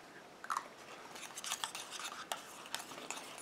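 A homemade anti-eczema cream with allantoin and royal jelly is stirred in a small container, giving soft close scraping and tapping strokes in an irregular rhythm, with no talking.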